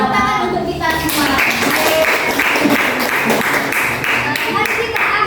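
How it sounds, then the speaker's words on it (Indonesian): A classroom of students applauds together during a teaching-practice lesson, a dense, steady patter of many hands that runs for most of the stretch, with children's voices mixed in underneath. "Tepuk tangan untuk kita semua."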